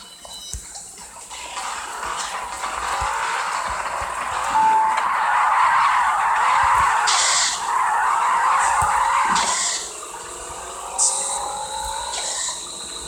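Toyota Supra race cars in a racing video game skid with a long, sustained tire squeal that rises and swells over engine noise, loud and close, with a voice talking in the background.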